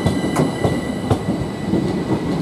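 A Southern Class 377 electric train, unit 146, pulls out of Lewes station toward Brighton, with close, loud rolling and rhythmic clickety-clack of wheels over rail joints and no voices.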